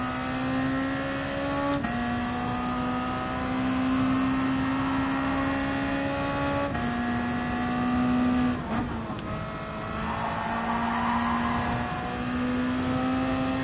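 A race car in the video game GT Sport strains up a hill. The engine holds a steady, laboring drone, shifts gear a few times with brief dips and rises, and stays loud and continuous throughout.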